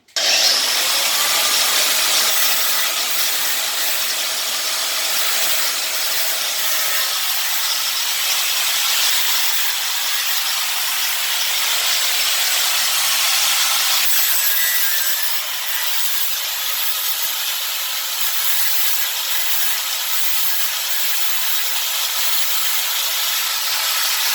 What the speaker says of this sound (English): with a grinder take a little bit of the edges off.